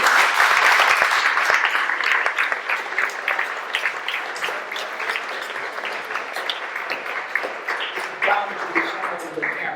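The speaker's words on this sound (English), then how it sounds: "Let's give that a round of applause" An audience applauds at the unveiling of two forensic facial reconstructions, strongest at the start and then thinning into scattered claps as voices begin to talk over it.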